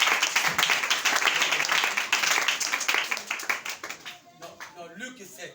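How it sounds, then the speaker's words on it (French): A church congregation at a Sunday service applauds together in a dense, loud burst of clapping that thins and fades toward the end, with voices mixed in beneath. "On acclame le Seigneur bien-aimé."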